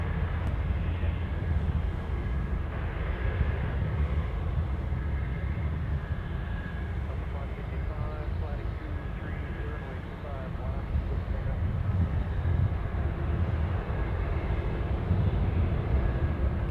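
An airliner departing Anchorage airport for Chicago O'Hare, heard as a steady, fairly faint roar of jet engines at a distance, with voices talking over it.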